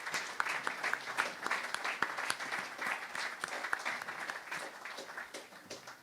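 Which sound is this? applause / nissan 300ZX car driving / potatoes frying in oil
applause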